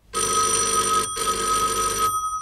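A telephone bell rings loud and close in two long bursts separated by a brief pause, with nothing else heard.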